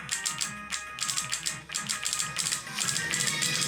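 Keys on a keyboard with built-in hit sounds tapped loudly and quickly, a close, sharp, clacky stream of irregular strikes with bursts and brief pauses.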